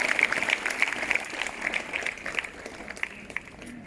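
Students at an Independence Day school celebration clap together in a steady, moderate round of applause, many hands patting continuously at middling distance with no voices over it.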